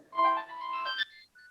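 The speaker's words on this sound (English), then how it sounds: "Whose phone's ringing?" A phone ringtone plays a brief tonal electronic melody of a few sustained notes, close and clear, cutting off after about a second with a faint tail, no talking.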